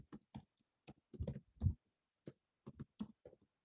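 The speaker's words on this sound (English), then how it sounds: "So you're just going to type in that password" Password typed on a Mac computer keyboard: about a dozen soft, close keystrokes in small uneven bursts separated by short pauses, with nothing else in the room.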